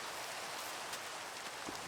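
Steady rain falls on a Minecraft world at night, heard as a soft, even hiss of pattering drops with a few faint brighter splashes, quiet and continuous with no talk.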